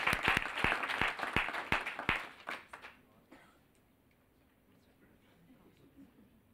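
Applause from a crowd, loud sharp claps for a few seconds that quickly fade into quiet room noise.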